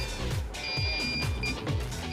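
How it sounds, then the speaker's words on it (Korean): A heat detector alarm sounds in a fixed-temperature sensitivity tester set to 60 degrees, giving a steady loud electronic tone with repeating pulses under a low background hum. "이번에도 역시 시끄러운 경보음과 함께 LED 불빛이 빨갛게 빛나는 것을 확인"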